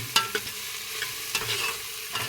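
A tempering for poha frying in hot oil, with a soft continuous sizzle broken by several sharp scraping stirs of a spoon against the pan.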